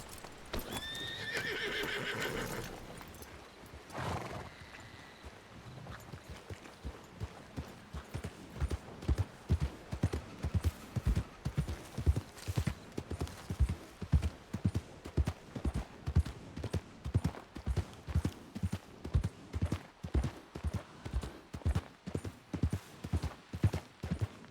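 A horse walks with steady, rhythmic hoof clip-clops that grow louder, with a clear neigh near the start, heard alone without talk.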